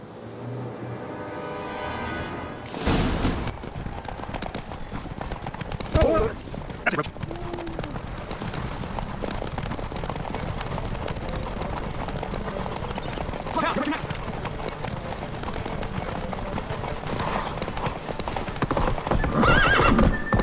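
Horses gallop in a race in The Witcher 3, steady clip-clop hoofbeats running for most of the stretch with a brief neigh, speech-like voices intermittently over the pounding.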